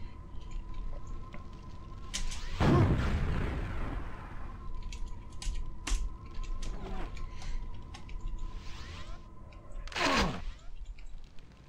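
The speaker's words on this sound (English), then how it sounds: "Let's see, where's my rocket launcher? Here it is." A rocket launcher fires in the PC game Quake, with two loud blasts and rumbling explosions, one around the third second and another near the tenth, over a quiet hum and scattered small game sounds.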